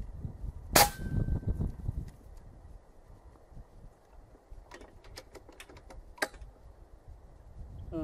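A Kral Bigmax X PCP air rifle fires a 45 grain slug, a single sharp close crack followed by quiet handling noise and a few faint clicks.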